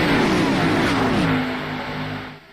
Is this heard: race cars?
yes